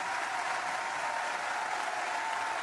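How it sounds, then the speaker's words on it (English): Steady, dense applause from a live studio audience fills the whole stretch, loud and continuous clapping with no pauses and no voices on top. "give yourselves a hand"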